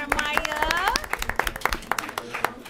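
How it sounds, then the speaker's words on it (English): Audience at a school board of education meeting clapping steadily, a dense run of hand claps that fills the room, with a speaker's voice carrying over the start. "So can we clap it up for him as well?"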